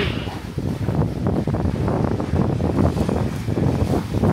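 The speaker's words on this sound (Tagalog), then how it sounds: "Ay, mahangin." Strong wind buffeting the microphone in a continuous low rumble, steady and loud throughout with no clear voices.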